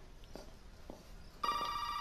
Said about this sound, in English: Is it the phone here?